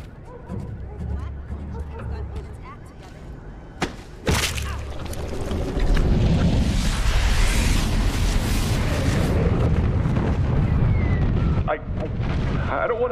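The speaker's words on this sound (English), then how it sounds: "why not use a rocket launcher" Rocket launcher blasts in Prototype 2: two sharp booms, then a long, loud rumbling roar of explosions and destruction, with voices speaking through it.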